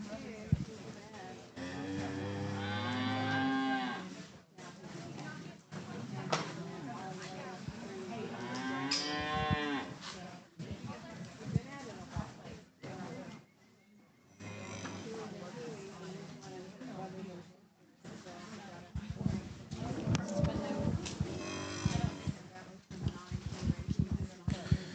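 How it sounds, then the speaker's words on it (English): Chianina cattle heifers moo loudly and repeatedly in a livestock show ring, their long bellowing calls overlapping with steady announcer-style talk throughout. "We're going to bring our other two Chianinas in."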